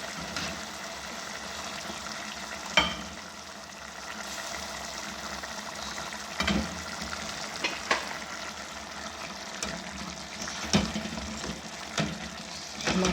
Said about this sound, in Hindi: अब इसमें मैं दाल ऐड कर लूँगी। दाल का जो पानी है ना वो भी हमने ज़ाया नहीं करना, वो पानी समेत हमने ऐड करना है।